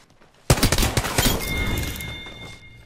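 A sudden, loud burst of rapid gunfire in Apex Legends cracks in close up, firing several quick shots that fade into a ringing tail.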